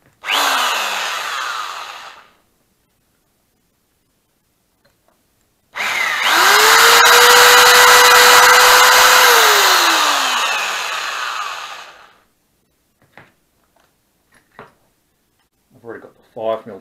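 A power drill with a 5 mm bit bores into a boost bottle manifold, heard as a short burst and then a longer close, loud run whose pitch rises, holds and drops, followed by quiet clicks and handling.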